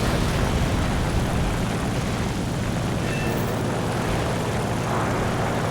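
The engine of a Hurricane Mk IIB fighter in War Thunder drones loud and constant in a broad roar that never lets up.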